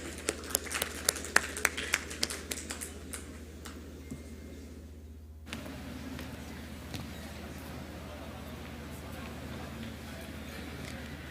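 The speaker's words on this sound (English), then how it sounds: "Please give them a round of applause." Several sharp claps ring out in the first few seconds, then give way to steady background noise and a low hum.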